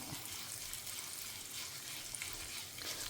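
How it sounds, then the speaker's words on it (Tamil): Sesame seeds and cumin sputter in hot oil, giving a steady, dense crackling sizzle that stays close and even throughout with no voices. "லேசாக ஒன்று ஒன்றா பொரிய ஆரம்பிக்கிறது"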